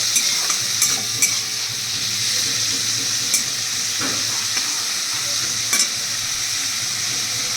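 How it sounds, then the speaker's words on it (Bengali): Shrimp fry in oil in a pan with a steady close sizzle that runs the whole time. Occasional stirring clinks and scrapes come through, and nobody speaks. "এবার আমি চিংড়ি মাছগুলোকে ভাজা করব।"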